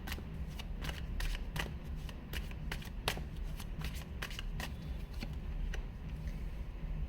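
Tarot cards are shuffled close by, a steady stream of crisp riffling clicks and flutters running throughout.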